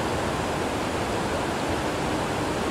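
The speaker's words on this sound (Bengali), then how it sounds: "এরকম সুন্দর একটা পাহাড়ি নদী আছে দেখো, খরস্রোতা নদী, আর কি পরিমাণে স্রোত আছে" A fast-flowing mountain river swollen by monsoon rain near Pelling, Sikkim, keeps up a dense, continuous rushing roar close by with no break.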